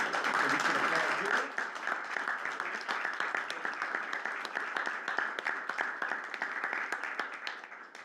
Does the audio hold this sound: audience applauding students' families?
yes